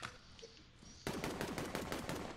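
Rapid gunfire from a Matador shotgun in a first-person shooter game, starting abruptly as a dense, loud burst of repeated shots that continues steadily to the end.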